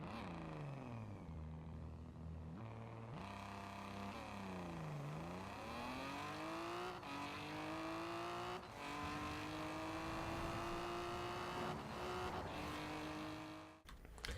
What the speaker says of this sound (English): The Lotus 340R is a very surprisingly fast car.